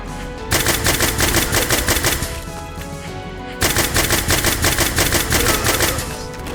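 Rapid, loud bursts of video-game gunfire in two long stretches, broken by a brief pause, with no voices.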